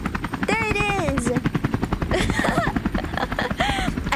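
A helicopter's rotor chops in a rapid, steady beat, loud and close, while a person talks over it with rising and falling voice.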